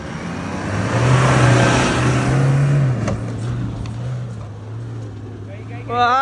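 The engine of an SUV strains and revs loudly as it climbs a steep off-road slope, a steady low drone with surges, while people talk over it.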